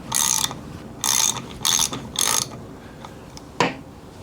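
Socket ratchet tightening bolts on a motorcycle rockerbox: four short bursts of rapid clicking, then a single brief click, close and clear with no talking.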